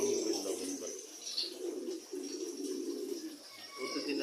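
Pigeons coo together in a low, steady, overlapping murmur, with some higher sounds above, continuous and moderately close.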